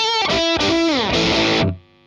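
Heavily distorted synth-like notes processed through a foldback distortion effect, harsh and buzzy with gliding pitches, loud and up close, cutting off abruptly near the end.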